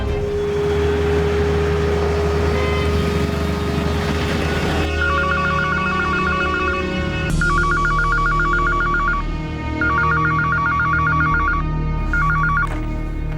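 A telephone rings in repeated electronic double bursts at a police station calling an institute, loud and steady over a constant low hum.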